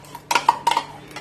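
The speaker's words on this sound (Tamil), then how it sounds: "நான்ஸ்டிக் பாத்திரம் எடுத்துருங்க." A non-stick pan clatters as it is picked up and set down in a home kitchen while mango halwa is being prepared, giving two or three short, close metallic knocks with quiet pauses between them.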